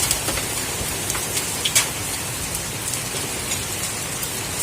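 Hail falling from a house roof on a July day, a steady dense patter of ice pellets with scattered sharper hits, close and continuous with no talking.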